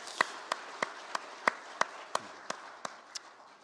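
A church congregation at a Sunday worship service claps to give thanks, a string of sharp, evenly spaced claps at a brisk steady rhythm, about three per second, fairly quiet against a hushed room.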